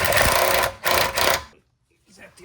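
Impact gun run up on a control arm bolt of an E46 BMW 330ci during a bushing replacement: two close, loud bursts of rattling hammering, then a short quiet gap with faint noise.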